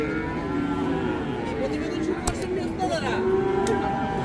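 Calves and cattle at Hazratpur livestock market, a low moo rising from a dense, steady crowd murmur of people talking and bustle close around.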